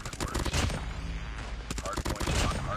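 Rapid gunfire in a first-person shooter video game on a multiplayer map, dense bursts of shots filling most of the stretch with a brief lull in the middle, loud and close, with speech-like game sounds mixed in.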